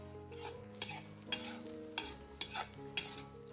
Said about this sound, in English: The onions shouldn't just fry, the moisture needs to evaporate.